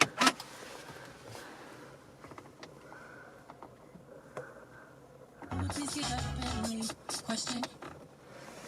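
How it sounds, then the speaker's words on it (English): A 2014 Volvo V40 SE starts from inside the cabin. A few soft clicks come first, then the engine cranks and catches into a loud, rough burst and settles to a steady idle with some brief surges. "I'll just turn the vehicle on."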